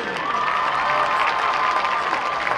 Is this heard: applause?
yes